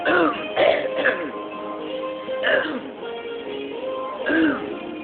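A person imitates exaggerated throat clearing and raspy coughing in several separate bursts, with rough, gravelly vocal noises between them.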